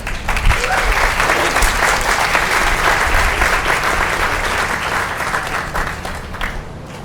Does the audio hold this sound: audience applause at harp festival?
yes